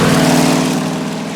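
A Jaguar F-Pace SVR V8 revs, a loud, dense engine roar that eases slightly over a brief moment, with no voices.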